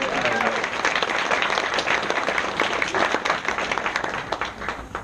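Wedding guests applaud during the groom's speech with a loud, dense round of clapping that carries on steadily and tapers slightly toward the end.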